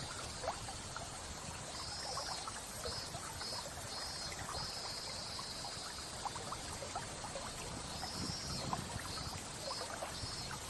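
Flowing water from a trickling stream, a steady broadband wash with small splashes and gurgles, plus faint high chirping calls in the background.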